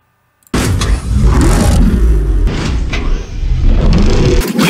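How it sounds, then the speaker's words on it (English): A car engine starts up abruptly and runs loud and close, its roar rising and falling unevenly as the sound is slowed down and sped up, then cutting off near the end, with no voices. "that was a very, very, very rough edit of the car starting up"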